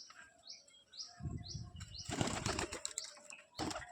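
A pigeon beats its wings in loud, close bursts of flapping, joined by a few high chirps from birds nearby, with no talk.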